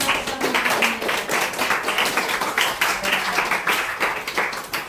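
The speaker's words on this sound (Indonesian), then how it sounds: "berikan tepuk tangan untuk" Classroom students clap together after a lesson on the circulatory system, a loud, close, rhythmic burst of steady beats that carries on evenly throughout.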